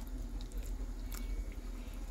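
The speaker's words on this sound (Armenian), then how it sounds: "մի քիչ ջուր կլցնենք և կսկսենք քթալով խառնել" Plaster powder and water are worked together by hand, making a steady, close, wet squelching and squishing that runs without a break for about two seconds.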